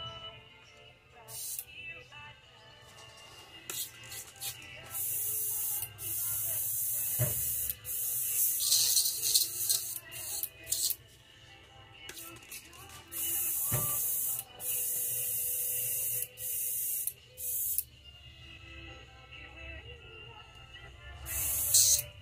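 Repeated bursts of hissing spray from spray painting a fishing lure, some short, some held for a few seconds, with brief pauses between and a faint hum underneath.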